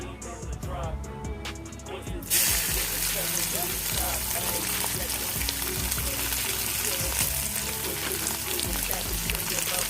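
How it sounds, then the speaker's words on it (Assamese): Soybean chunks dropped into hot oil in a kadai burst into loud, steady crackling sizzle that continues close up, after a quieter opening stretch. "এতিয়া মই এইটো কেৰাহীতে মই সয়াবিনখিনি ভাজি ল'ম।"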